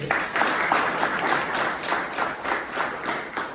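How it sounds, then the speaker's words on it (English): A round of applause from a Toastmasters audience for a speaker's first evaluation, with rapid steady clapping from a small group close by, sustained across the whole stretch. "Let's have a round of applause for her."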